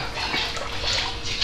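Water pouring continuously for a moment, a steady hissing splash that stays moderately close and even, without voices.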